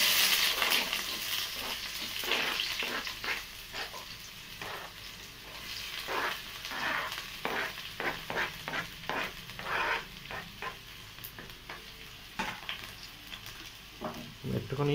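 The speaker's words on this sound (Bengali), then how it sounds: "একটুখানি সেটা হালকা ভাজা ভাজা করবো।" Chopped ingredients, likely onions, fry in hot oil with a low crackling sizzle and frequent scraping stirs, quiet and close.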